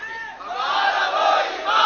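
A crowd at a religious gathering chants a slogan in unison, a loud, swelling collective roar that rises and holds for a moment, sounding close and full.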